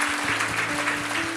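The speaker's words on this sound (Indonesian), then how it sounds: "Kita kasih tepuk tangan untuk mereka, welcome home." Steady applause from a church congregation, continuous clapping over a low musical hum with no voices.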